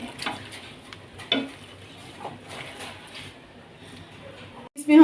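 Chicken black pepper karahi being stirred with sliced green chilies, giving scattered metallic scrapes and clinks of a utensil against the pot, with a faint sizzle and a louder knock near the end.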